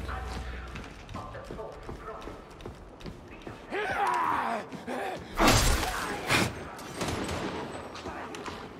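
Shotgun blasts in the Warhammer 40k: Darktide video game ring out amid busy combat, with a loud burst near the middle and another shortly after, while voices and game noise carry on underneath.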